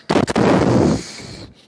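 A cannon fires in a battle sound effect: a sharp close boom with a few quick cracking bursts, then a rolling roar that fades away within about a second.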